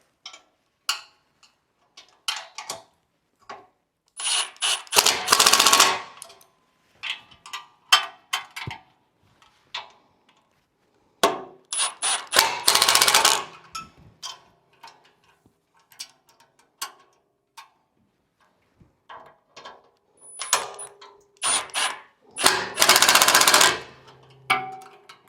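Bolts on a Cybertruck front bumper are tightened with a ratchet, giving bursts of rapid clicking and whirring separated by short pauses and scattered metallic ticks, close and distinct with no talking.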